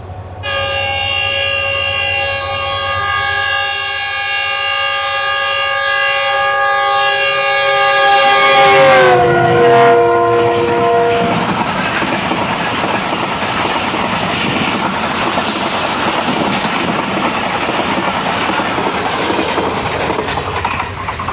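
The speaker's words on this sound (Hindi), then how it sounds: "एक 103 स्पीड पकड़ गई जी ट्रेन।" A passenger train speeding past near Lahore, Pakistan, at roughly 100 km/h: a loud, sustained multi-tone horn that drops in pitch as the train passes, followed by a rushing roar and rhythmic clatter of carriages on the rails.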